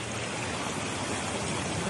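Water gushes steadily from a burst drinking-water pipe on a city street, a constant broadband rushing hiss heard from moderately far, even in level throughout with no voices.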